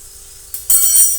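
Chilies and dry spices drop into hot oil for a kadhi tempering, and a low background hiss jumps into a loud, bright sizzle that stays close and steady to the end.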